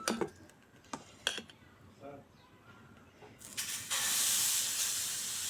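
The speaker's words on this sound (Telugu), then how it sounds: "ఇలా ఉల్లిగడ్డతో కొంచెం ఆయిల్ వేసి ఇలా అనుకొని" Oil is spread with an onion across a hot dosa pan. A few light taps and scrapes lead into a sudden, loud, sustained sizzling hiss that fills the last couple of seconds up close.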